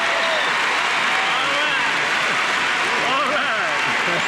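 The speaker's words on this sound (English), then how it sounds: "the crowd loves it" A packed arena crowd applauds and cheers for the American gymnastics team's dismount, a loud, continuous wash of clapping mixed with whoops and shouting voices.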